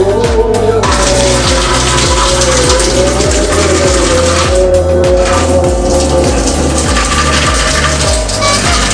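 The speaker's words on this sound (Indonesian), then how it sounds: "Tinggal buang aja airnya." Hot water pours off freshly boiled egg noodles as they are drained, a loud, continuous splashing gush close by with a rhythmic gurgle running steadily underneath.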